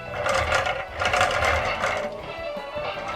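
A VTech Go! Go! Cory Carson DJ Trax toy train switched on gives off a steady buzzing, whirring mechanical hum, close and continuous for a few seconds with no voices.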